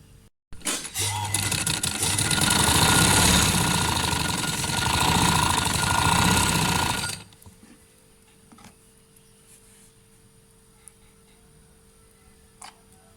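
A sewing machine stitches a trouser seam in a rapid, steady mechanical chatter for several seconds close up, then stops, leaving faint ticks and quiet handling.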